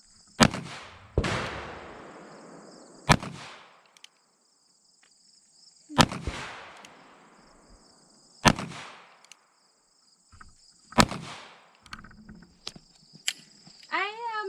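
Five sharp gunshots from a custom Ruger Blackhawk 10mm revolver ring out one at a time, each loud, close, broadband crack followed by a short decaying echo, with quiet pauses and small handling noises between shots.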